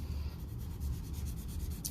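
Pencil shading on paper, a soft continuous scratchy rub with short repeated strokes, close and quiet, with no talking.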